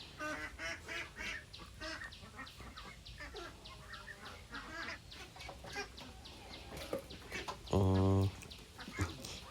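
Ducks on an Assam duck farm being caught, quacking and honking in a noisy, continuous flock chorus with flapping and scuffling, and a loud sustained call near the end; a voice speaks faintly in the background.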